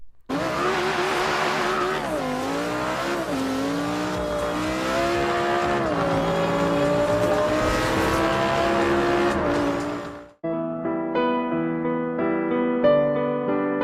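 Cars racing in an open world video game, with loud engines rising and falling through gear changes and a long tire squeal, close and continuous. The engine noise cuts off abruptly and a bright musical tone takes over.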